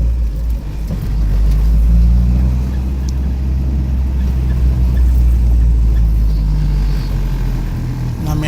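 A 1997 Acura Integra engine with a Skunk2 throttle body idles steadily and close, a smooth low droning hum holding even throughout.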